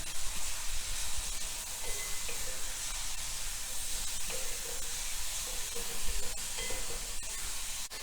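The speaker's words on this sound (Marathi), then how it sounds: "पुन्हा आलं लसूणची पेस्ट कांदा चांगला भाजून घ्यायचं" Onion with ginger-garlic paste frying in hot ghee in a pan for ghee roast chicken, a steady broadband sizzle and hiss with occasional stirring scrapes, fairly faint and continuous throughout.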